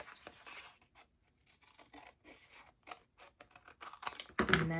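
Soft snips and scratchy paper sounds while a paper pocket for a journal is cut out, faint and close, in short irregular bursts with brief pauses, ending in a louder rustle.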